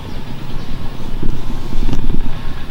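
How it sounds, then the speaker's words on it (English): Hand tractor engine working a rice paddy, a loud continuous chugging drone with uneven throbbing pulses, close by with no talking. "they're doing preparation over there with a hand tractor"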